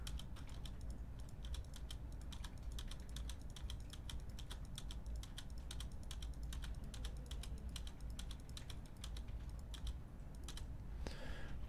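Computer keyboard typing for a game map editor, a steady stream of quiet, closely spaced key taps with a repeated press pattern, continuing alone without talk.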